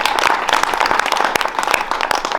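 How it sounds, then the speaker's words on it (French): Applause from a meeting audience gathered for a social life space evening, dense steady clapping from many hands filling the room throughout, loud and close, with no one speaking over it. "On peut applaudir, ouais, grave."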